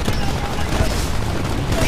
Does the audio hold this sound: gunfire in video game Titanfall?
yes